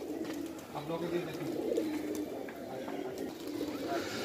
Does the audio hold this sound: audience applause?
no